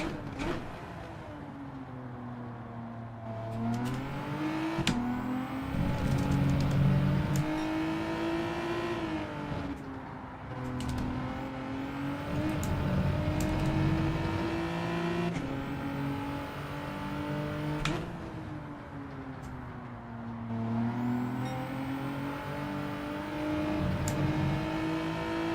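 Jaguar Group 4 race car engine in Gran Turismo 7 at Brands Hatch GP, revving and rising and falling in pitch through gear changes, loud and continuous for the whole stretch with no talking.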